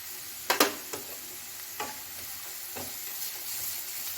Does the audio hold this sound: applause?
no